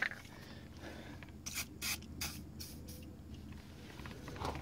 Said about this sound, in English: Maybe a little bit more of WD-40